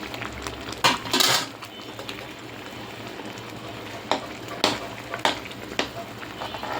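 Okra tossed into a pan and stirred with a metal utensil: sharp clinks and scrapes, a loud burst early and several more later, over a faint background sizzle.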